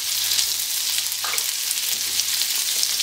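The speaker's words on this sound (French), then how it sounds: "J'ai fait chauffer une noisette de beurre à forte température. On va y mettre nos langoustines." Langoustines fry in a knob of very hot butter with a loud, dense, continuous sizzle that stays steady throughout, with a faint low hum beneath.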